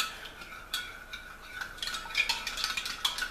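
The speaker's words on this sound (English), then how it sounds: "I'm going to stir with my sanitized spoon until I get this dissolved" A sanitized spoon stirs homebrew wine ingredients in a container to dissolve them, giving light, irregular clinks and scrapes against the vessel that grow busier toward the end.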